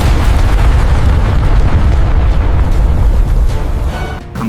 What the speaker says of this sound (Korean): 순간의 충돌, 굉음, 폭발.